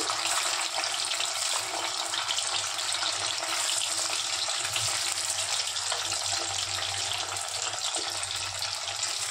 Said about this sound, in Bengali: এবারে কেটে রাখা সয়া চাপগুলো কড়াইতে ছেড়ে দিলাম।